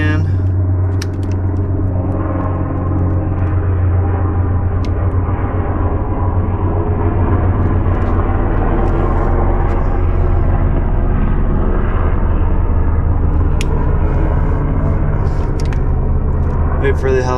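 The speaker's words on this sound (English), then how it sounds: "Wait for the helicopter to pass." A loud, steady low rumble of an Apache helicopter passing overhead fills the whole stretch, with a deep throbbing drone and a few faint clicks on top.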